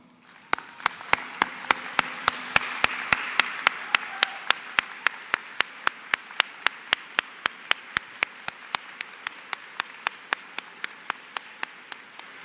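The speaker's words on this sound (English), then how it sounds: "would you all please rise and allow us to applaud you?" A university graduation ceremony audience claps in unison to a steady, even beat, with a wash of scattered applause early on that fades, leaving the rhythmic claps.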